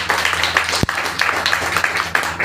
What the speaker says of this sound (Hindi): इनके लिए जोरदार तालियां बजाएं।